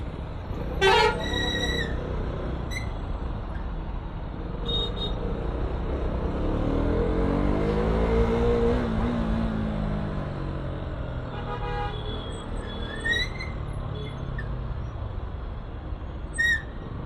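Steady road traffic rumbles as a vehicle passes close by, with several car horns honking in short bursts near the beginning and again toward the end.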